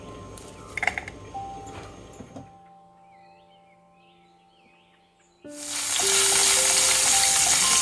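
Unpeeled garlic frying in about one and a half teaspoons of coconut oil for a clam roast, starting with a brief stretch of cooking noise, then near-quiet with faint bird chirps, then a loud, steady sizzle that surges in and holds to the end.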